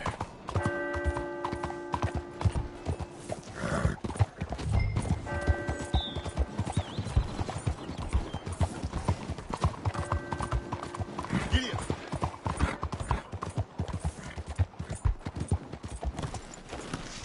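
Horse hooves clip-clop at a walk in Red Dead Redemption 2, a steady series of close knocks with a brief whinny and occasional game music tones, while characters talk over them.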